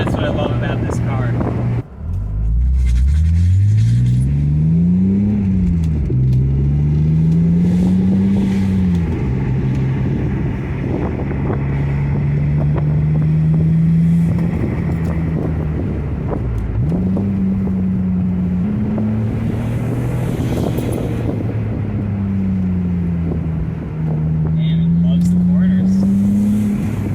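BMW M Roadster driven hard on a back road, its engine note rising and falling through repeated gear changes, loud and close with wind rush over the open car.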